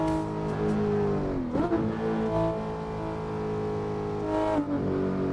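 Simulated car engine from Assetto Corsa racing on PC, a steady harmonic drone holding near-constant pitch, with two brief dips where revs fall and recover, loud and without voices.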